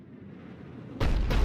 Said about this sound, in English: Looks like Cerberus got that cannon operational, Commander.